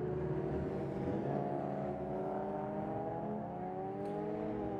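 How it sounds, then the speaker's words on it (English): Race cars lapping the Oulton Park circuit, a steady blend of engines droning and rising in pitch at a moderate distance, several overlapping tones with no talking. "The cars continue to weave their way through the field."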